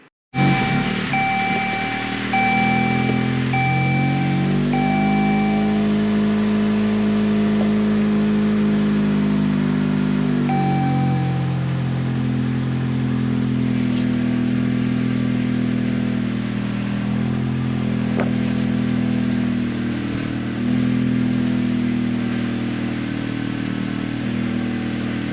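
A 2012 Dodge Journey engine idles steadily with a newly fitted power steering pump, its hum dipping and rising briefly as the steering is loaded, with a thin whine from the pump over a constant close drone.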